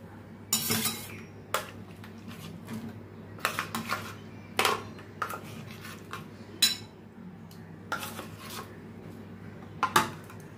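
Paneer going into an oiled bowl, with scattered clinks and scrapes of a utensil against the dish over a low steady hum, fairly quiet.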